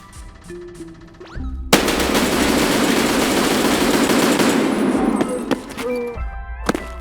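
SVD rifle in Escape from Tarkov firing a rapid, loud burst of shots that blur into a sustained roar for several seconds, with scattered single shots before and after.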